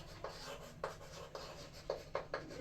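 Pen or chalk writing out a math factorization, heard as a quiet series of about six short scratchy strokes in an uneven rhythm over a faint steady hum, with no voice.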